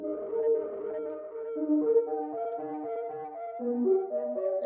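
A soft Serum synthesizer patch plays a gentle, wavering melodic line of sustained tones, fairly quiet and alone, with no one talking.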